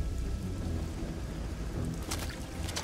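Stormy weather in the game Risen 2, a steady rush of rain and low rumbling wind with a couple of sharper crackling bursts near the end, with no speech.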